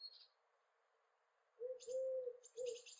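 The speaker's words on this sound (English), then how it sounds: "The rock dove is a member of the bird family Columbidae." A rock dove gives a few low cooing calls, one long coo and a shorter one after it, fairly close, with faint higher chirps and tweets from other birds in the background.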